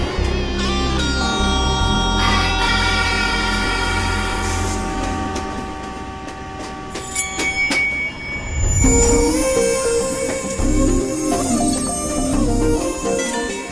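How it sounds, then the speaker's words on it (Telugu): A train rumbles and screeches with metallic wheel squeals and ringing tones, building in loudness as it gets moving, with no voices. "ట్రైన్ అవును, బయలుదేరుతుంది"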